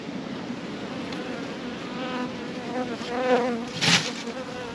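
Dense, steady buzzing of many somewhat agitated honey bees close by in a nuc hive, a continuous droning hum that swells briefly louder near the end.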